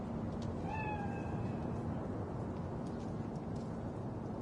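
A bakeneko cat spirit in Cyberpunk 2077 gives a single short meow, heard alone over a steady low background hum.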